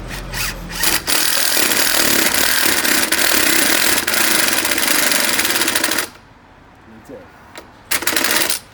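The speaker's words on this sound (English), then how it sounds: "drill these in" A power drill drives screws into pre-drilled holes in an outdoor wooden railing along an elevated walkway, a sustained whirring grind for about six seconds, then quieter with short bursts near the end and a voice nearby.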